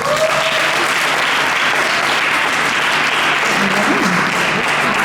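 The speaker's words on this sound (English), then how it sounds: "Applause for Sam" Loud, continuous crowd applause for Sam at a career expo talk show, a thick unbroken roar of clapping that holds evenly throughout, with faint tonal hum beneath.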